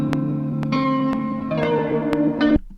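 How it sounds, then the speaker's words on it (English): Sharp metronome clicks tick at a steady tempo over a looping music sample with sustained reverberant tones, the clicks clearly cutting through until the loop stops abruptly near the end. "then we turn on our metronome and we just listen"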